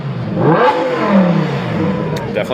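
A Lamborghini Centenario's exhaust rises and falls through a couple of quick, loud revs nearby, the pitch climbing and dropping, with some mechanical clatter toward the end.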